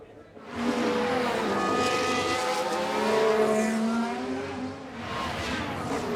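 An F1 car engine screams on a flying lap in the F1 Manager 24 video game, a sustained loud high-revving whine with pitch shifts through gear changes and cornering, continuous throughout.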